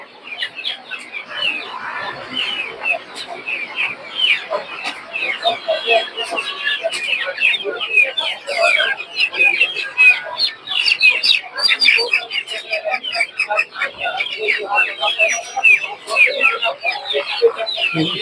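Chickens and guinea fowl cluck and chirp in a busy live-poultry market in Tongi, a dense continuous chatter of many birds, with voices talking throughout.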